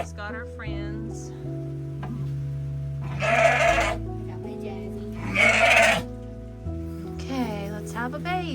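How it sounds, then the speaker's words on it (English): Sheep bleating during a ewe's birth in a farm setting, with two loud, drawn-out bleats standing out among steady tonal background sounds and nearby voices. "This will be the first sheep the first ewe this season that we've actually caught giving birth"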